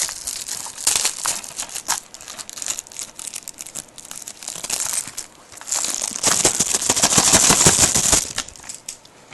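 Plastic wrap is crinkled and torn off a UK DVD case in dense, close crackling bursts that grow louder and busier toward the end, with no talking.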